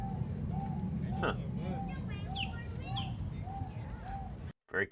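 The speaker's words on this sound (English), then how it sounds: "Some kind of lovely dove, it sounds like." A dove calls repeatedly in soft, low, evenly spaced coos, steady and consistent, with chirps from other birds and a brief human voice mixed in over a background hum.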